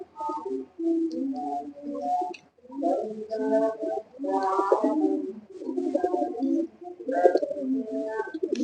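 Silver pigeons, tournament birds kept in a loft, coo steadily in overlapping rounds, several birds close by with soft throaty calls and brief pauses, no talking.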